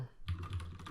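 A computer keyboard being typed on in short, quick bursts of close clicking keystrokes, starting after a brief quiet moment.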